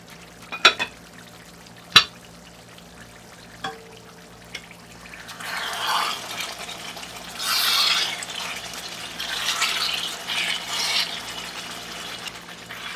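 Camel meat korma for biryani is stirred and mixed in a pot. A few sharp utensil knocks come first, then a steady wet sizzle and scraping swells in bursts, close by with no talking.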